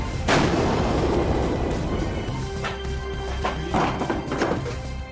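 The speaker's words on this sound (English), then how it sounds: "Set on automatic, it can fire 16 to 20 rounds per minute." A destroyer's naval deck gun fires sand-filled practice rounds on automatic, a loud heavy boom followed by reverberating rumble, with a few further thuds and blasts at irregular intervals amid steady shipboard noise.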